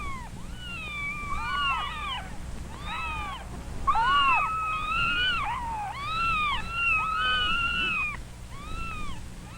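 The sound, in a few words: newborn kittens crying for their mother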